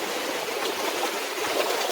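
Continuous broadband rushing of surf at the shore as a set of ocean waves rolls in, a dense, steady wash of water with no voices over it.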